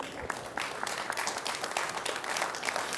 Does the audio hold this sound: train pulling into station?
no